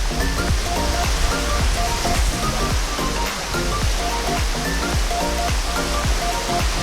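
Beach waves washing ashore at the Banten Lama historic site, a continuous, even roar of surf filling the background with no clear speech.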